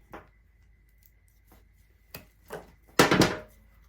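Cutting artificial flower stems short for a small Easter and spring table arrangement, heard as a few sharp, close snips and rustles, with the loudest crunching cut near the end.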